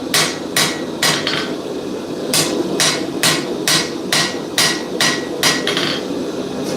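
A blacksmith's hammer strikes a blade on an anvil to forge its bevels, about a dozen sharp, ringing blows in an uneven rhythm, close and loud, with no talk.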